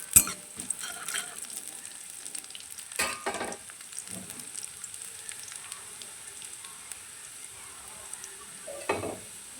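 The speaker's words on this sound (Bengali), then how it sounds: "রসুনগুলো লাল লাল করে ভাজা হয়ে গেছে" Garlic cloves frying in oil until reddish, with a faint continuous sizzle and occasional sharper pops and stirring scrapes.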